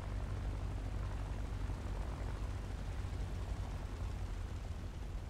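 Aircraft in a tank video game drone overhead with a dense, steady low rumble of engines and propellers, continuous and fairly loud with no voices.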